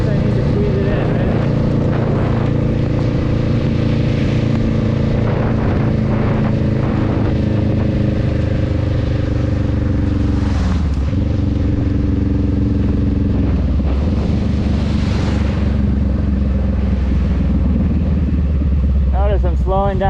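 A motorcycle ridden in the rain gives a loud, continuous engine drone with steady wind and road rush close to the rider, the pitch shifting slightly as it slows, with a voice speaking over it.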